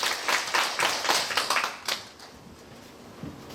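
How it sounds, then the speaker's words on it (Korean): Scattered audience clapping at a small business association meeting in Uiwang, a few seconds of dense hand claps that quickly thin out and fade to a quiet room, with a couple of late isolated claps. "큰 박수 다시 한번 부탁드리겠습니다."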